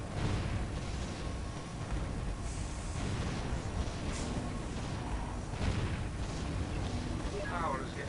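Cannon towers fire in the Defense Grid Containment tower-defense game on its final story level, a dense, continuous wash of booming blasts and rumble that stays loud throughout.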